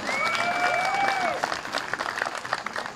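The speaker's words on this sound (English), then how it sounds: "Give her a big giant round of applause." A crowd claps for a large female Harris's hawk after a trick at a Renaissance faire bird show. Steady mixed applause lasts about a second and a half, with a whistle-like tone over it, then thins to scattered claps.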